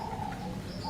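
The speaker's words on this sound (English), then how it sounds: "the doves are making their sound calls and stuff" Doves coo softly in a garden on a warm late-summer day. The low, soft cooing is steady and slightly distant, with faint chirps of other birds over it.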